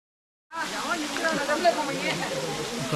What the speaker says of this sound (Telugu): వాటర్ ఫ్లో అవుతుంది.